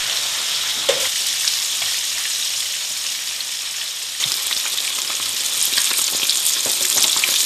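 Steady crackling sizzle of food frying in hot olive oil, close and continuous, growing a bit louder and busier partway through.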